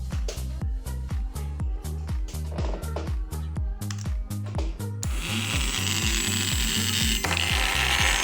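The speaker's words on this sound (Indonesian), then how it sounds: "Jadi pesan nyala dan matikan di sini untuk menyalakan relay dan mematikan relay." Rapid regular clicking from a relay module driven by an ESP32 over Bluetooth, a loud, close series of sharp mechanical ticks repeating about twice per second with a denser rattling stretch toward the end.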